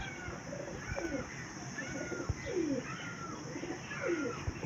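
A pigeon coos repeatedly in a steady rhythm of soft rolling calls, close by, over a constant background hum with faint chirps.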